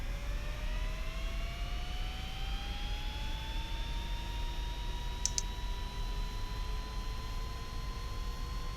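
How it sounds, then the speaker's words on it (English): An aircraft engine spooling up in the X-Plane 11 flight simulator, the left engine starting with a steady rising whine and hum that climbs in pitch over several seconds, with a brief double click partway through. "And starting left engine."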